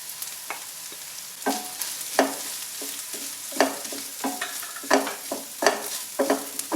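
Grated coconut and turmeric frying in a pan for a drumstick leaves thoran, a soft sizzle under repeated spatula stirs and scrapes that come in irregular bursts, close and clear with no talk.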